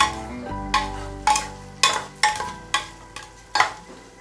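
Cashews frying in a pan, with a spatula repeatedly scraping and stirring them in sharp, regular strokes about every half second over a soft background sizzle.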